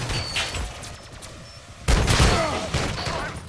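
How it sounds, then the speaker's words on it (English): Shotgun fire in a Call of Duty match, a sudden loud blast partway through followed by a burst of rapid shots and clatter over quieter background game noise. "Hit her ass with that shotgun"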